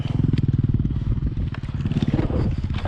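Close motorcycle engine running at steady revs with a rapid, even pulsing rumble and light rattling, over a short stretch while riding.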